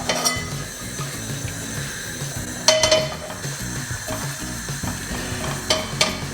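Prawns frying hard in a pan with sliced garlic and chili flakes, a loud steady sizzle with occasional clinks and stirring scrapes.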